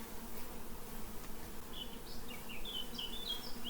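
Honey bees buzz close around hive frames during a beekeeping inspection, a dense continuous droning hum with a few higher whining passes of individual bees near the end.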